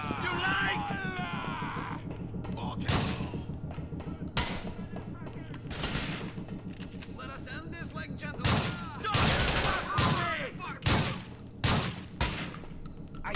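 Bursts of gunfire and heavy shots in the GTA 4 video game, loud repeated volleys with sharp cracks coming at an uneven rhythm, mixed with game sounds and voices talking over the action.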